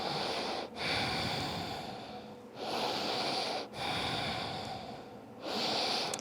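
Deep breathing during yoga boat pose in an advanced vinyasa flow: long, close, rushing breaths that rise and fall in a steady rhythm, about one every three seconds, with no talking.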